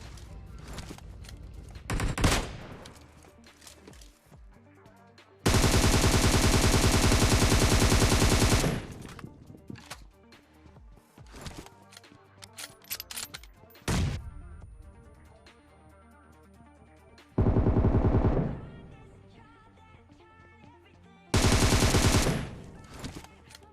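Gunfire in PUBG Mobile: a few sharp single shots, then long sustained bursts of automatic fire repeating several times, loud and close, with no talking.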